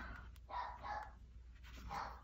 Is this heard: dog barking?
yes